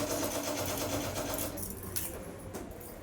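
A sewing machine stitches a churidar lining in a fast, steady close whir that eases off toward the end, with a few faint clicks.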